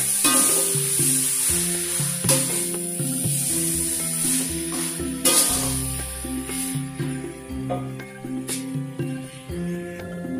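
Mie Cap Lombok noodles frying in a pan give off a steady sizzling hiss while being stirred, with occasional scraping and clattering over a continuous background hum.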